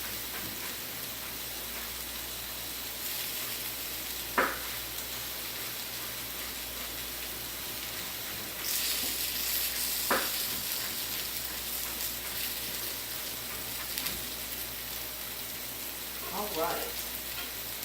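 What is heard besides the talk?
green beans cooking and sizzling in a pan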